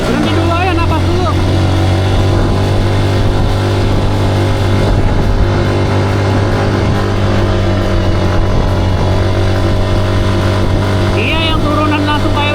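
Motorcycle engines drone steadily on a touring ride toward Ciletuh, a loud continuous hum with shifting pitch, mixed with rushing wind and a voice talking over it.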